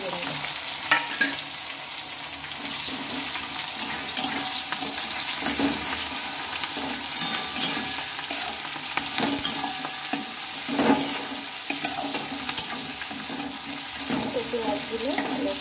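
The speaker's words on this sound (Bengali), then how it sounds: "পেঁয়াজগুলো আমি একটু ভালোভাবে ভেজে নেব।" Chopped onion and green chili frying in oil with a bay leaf in a pan, a steady dense sizzle with occasional stirring scrapes, close and continuous throughout.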